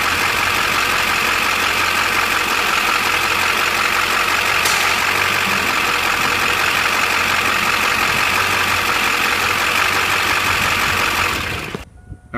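A car engine with a damaged high-pressure power steering line cranks and then idles steadily, a loud, continuous mechanical drone close by that ends abruptly.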